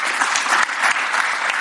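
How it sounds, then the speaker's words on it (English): Audience applause at the close of a talk with Josh Luber, CEO of StockX, steady dense clapping from a crowd filling the whole moment at an even, loud level. "Big applause."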